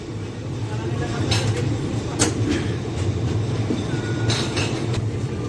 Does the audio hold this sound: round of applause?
no